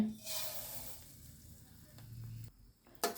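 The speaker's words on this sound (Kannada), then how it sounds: "2 ಸ್ಪೂನು ಎಣ್ಣೆ ಹಾಕಿಬಿಟ್ಟು ಈ ಕಾಳುಗಳನ್ನೆಲ್ಲ ಹುರಿತೀನಿ" Lentils, coriander seeds, fenugreek, asafoetida and curry leaves roasting in two spoons of oil over low heat give a soft sizzle and hiss with stirring, fading midway before a brief louder burst at the end.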